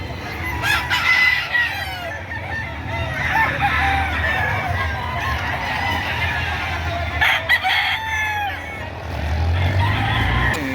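Roosters at a chicken market in Padre Garcia, Batangas, crowing in long calls and clucking among a busy crowd, with voices and traffic rumble underneath.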